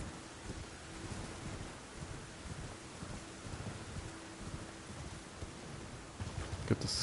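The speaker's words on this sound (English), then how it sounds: "start getting heavy rain." Heavy rain hisses steadily in Elden Ring, a dense, even wash of downpour with a faint low rumble of thunder beneath, ending in a few sharper clicks.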